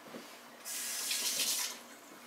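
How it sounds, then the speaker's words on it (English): A kitchen faucet gushes for about a second as hands are wet during cheese torta preparation, a smooth close rush of water that starts abruptly and tapers off. "So let me get my hands wet again."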